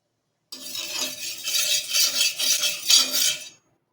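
Oil is spread over a hot tawa on a gas stove with a utensil, giving about three seconds of close, scraping swishes in rhythmic strokes that start and stop abruptly, with no talking.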